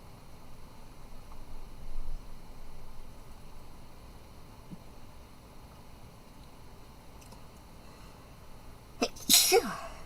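A single sudden, sharp human sneeze bursts out near the end after several seconds of quiet room hiss and faint low background noise.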